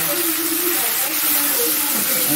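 Potatoes dropped into hot oil in a pan, giving a loud, steady broadband sizzle and hiss that fills the whole moment, with faint voices murmuring underneath.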